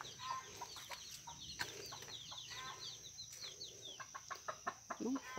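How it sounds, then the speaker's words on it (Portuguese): A hen with nine chicks clucks softly in a farmyard, with bursts of high peeping chick calls and a few sharper clucks spread across the clip, fairly close and at a modest level. "mostrar aqui uma galinha com 9 pintinhos, coisa mais fofa"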